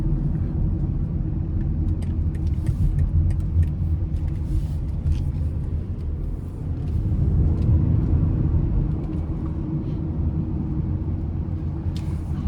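A 2020 BMW X3 xDrive30i cruises along a road, a steady low rumble of engine and tire noise filling the cabin, swelling briefly midway with no voices.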